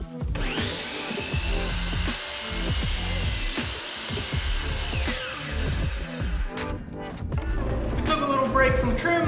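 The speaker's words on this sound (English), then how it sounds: "we need to cut them down the length, and we're going to use the miter saw for that." A miter saw cutting plywood trim pieces to length, with a whining motor spinning up, a loud buzzing cut and a falling wind-down, accompanied by clunks and handling noise, with a person speaking.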